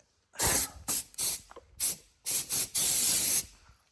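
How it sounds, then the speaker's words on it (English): Compressed air wand blasting a Cub Cadet ZT1 zero-turn mower during cleaning: a run of short, sharp hissing bursts, then one longer blast, close and loud with no talking. "I love my air hose or my air wand here."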